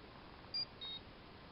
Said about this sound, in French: des fois ça fait vraiment que des petits bips et le poisson n'est pas piqué